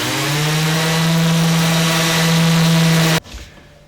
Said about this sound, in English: I've got the sander here, and we'll just do the final pass.